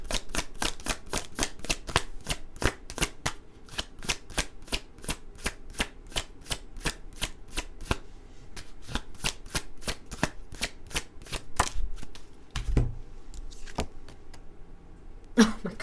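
Tarot cards are shuffled in quick, steady riffling bursts, a long run of crisp rhythmic flicks close by, with a short pause and a couple of soft handling noises near the end, no voices.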